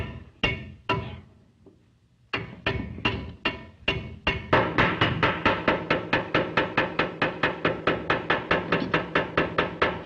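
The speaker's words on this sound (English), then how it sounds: "Stop hammering." Sharp hammer blows, a few spaced strikes at first, then a fast steady series of repeated pounding, close and clear with no talking.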